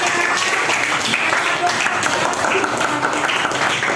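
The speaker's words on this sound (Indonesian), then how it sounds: "tepuk tangan dulu untuk Mardia ya" Steady applause from a crowd fills the whole moment, dense and even, with a murmur of voices mixed underneath.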